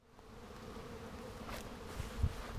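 Honey bees buzz steadily around a beehive outdoors, a continuous low drone at moderate distance with no voices.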